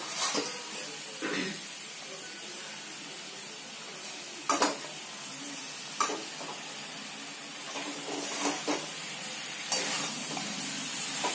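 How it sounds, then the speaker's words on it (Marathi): Pasta tossed with Indian spices in a pan: a soft, steady sizzle with several sharp spatula clinks and scrapes against the metal at uneven intervals. "थोडा वेळ असं हलवणार आहोत आपण याला आणि याच्यामध्ये हा पास्ता घालून घेणार आहोत आपण"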